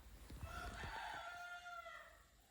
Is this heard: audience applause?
no